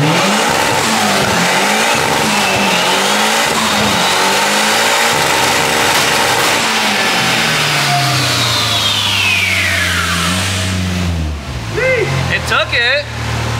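A rear-wheel-drive Honda Civic on a dyno at 19 PSI boost revs hard and loud through a long rising pull, the engine tone sweeping upward before cutting off, with a brief burst of lower-rev noise at the end.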